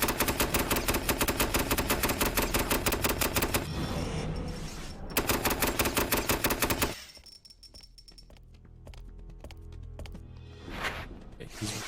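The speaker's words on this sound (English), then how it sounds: "If he can see you, he'll shoot at you." Rapid automatic gunfire from an enemy in the video game Restricted Area, loud close bursts of rattling shots in two long runs separated by a brief pause, then fading to quieter scattered game sounds.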